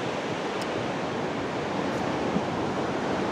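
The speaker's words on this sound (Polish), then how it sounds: "Tam też plaża i na niej rozbijające się fale." Ocean waves break on a beach in Torndirrup National Park near Albany, Australia, heard as a constant, dense roar of surf with a light sea breeze, steady and fairly distant.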